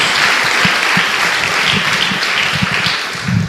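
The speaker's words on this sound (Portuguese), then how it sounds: "Dê uma salva de palmas a Jesus." A church congregation claps together in dense, steady applause throughout a Portuguese-language worship service, with a few voices calling out faintly beneath the clapping.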